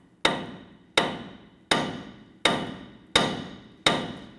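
Six evenly spaced hammer blows ring out close by on a 1993-1997 Ford Ranger front axle, knocking the upper ball joint loose, each sharp metallic strike decaying before the next, with no talking.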